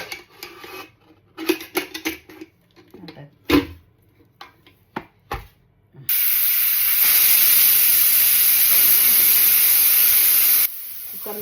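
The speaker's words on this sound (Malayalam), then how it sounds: "ഇതിപ്പോൾ ഞാൻ ഇത് ഒഴിക്കുന്നത് ഒലിവ് ഓയിലിൻ്റെ സ്പ്രേ ആണ്." Olive oil spray hisses onto a pressure cooker lid in one long, loud, continuous burst lasting several seconds, after scattered clattering and handling noises in a kitchen.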